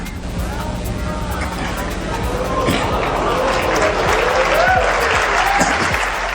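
A large crowd applauds steadily at the iMac G4 unveiling during Macworld 2002, dense clapping with some cheering carrying through the whole stretch at a fairly even, loud level.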